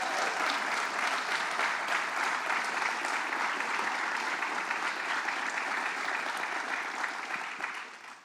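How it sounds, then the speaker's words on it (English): A round of applause for Congresswoman Nita Lowey at a paid family leave rally in the Hudson Valley, a dense, even wash of clapping from a crowd that holds steady for several seconds before tapering off. "So let's give her a round of applause."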